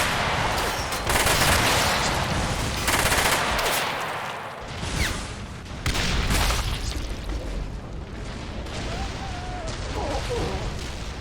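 Rapid SMG bursts and other gunfire crackle through a Warhammer 40k trench battle in a video game, with repeated loud volleys, booming impacts and dense overlapping shots, a voice talking over parts of the fighting.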